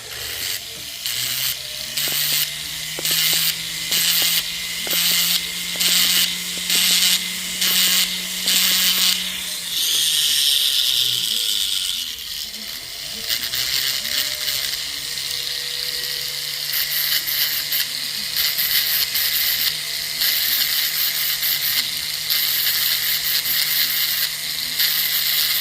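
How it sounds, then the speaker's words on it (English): Grinder working down stones along the side, a continuous loud mechanical whine with a rapid ratcheting rattle, briefly easing off and dipping near the middle before resuming steadily, close up. "I'm kind of using the grinder to grind it down on the side there a little bit."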